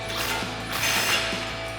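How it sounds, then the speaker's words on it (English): A ratchet wrench with a 36 mm socket turns the axle nut on a RAM 1500's front end, giving a steady close mechanical clicking and whirring that runs throughout the short stretch. "we can tighten back down our axle nut with our 36 millimeter socket"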